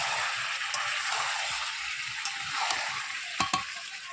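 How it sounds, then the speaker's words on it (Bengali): Chicken kosha being sautéed in a pot over a wood-fired clay stove, a loud continuous hissing sizzle with a few quick scrapes and taps of the ladle, close and uninterrupted. "কষাচ্ছি, প্রায় কষানো হয়ে গেছে।"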